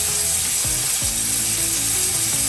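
An electric shaver or razor buzzes steadily against the skin for a man shaving at his shoulders, a constant broadband whir with shifting low tones, close and alone without talk.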